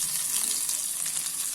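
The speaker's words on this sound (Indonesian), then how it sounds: "Lalu kita tumis bawang putih yang sudah kita geprek tadi ya." Crushed garlic sizzles in a tablespoon of hot cooking oil in a pan, a steady bright hiss and crackle of frying with no talk.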